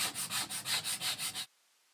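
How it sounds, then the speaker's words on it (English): Rhythmic scraping of old paste off a large surface, about nine close, loud back-and-forth rasping strokes in steady succession, then abrupt silence. "you can see it's just scraping off that paste"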